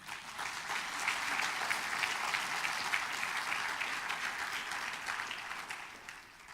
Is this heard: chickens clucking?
no